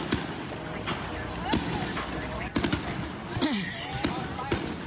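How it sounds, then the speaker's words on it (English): Sharp cracks and pops of fireworks go off irregularly at night against a dense rumbling background, some bursts whistling, with people talking faintly underneath; in Los Angeles. "fireworks lighting up the night sky visible for miles"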